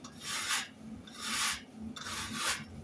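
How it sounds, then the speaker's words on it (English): A cutting tool faces the inside end of a bicycle frame tube, giving three rhythmic rasping strokes of metal scraping, each about half a second long, close and steady with brief pauses between them. "So this is just cutting the inner of the tube, working its way down slightly to the point where the face should contact soon"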